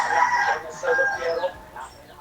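A rooster crows in a short, strained call that rises and trails off, fairly close, with people chatting in Tagalog around it.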